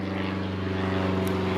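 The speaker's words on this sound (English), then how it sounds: "Bloody planes again." A propeller airplane droning overhead above woodland, a steady, loud engine hum holding throughout with no pauses.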